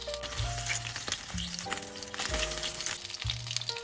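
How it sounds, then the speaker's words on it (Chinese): Tofu rolls frying in vegetable oil in a pan with scallion pieces, a steady close sizzle and crackle running the whole time, broken by a few soft clinks and scrapes of a utensil. "把豆腐卷先下锅煎一下"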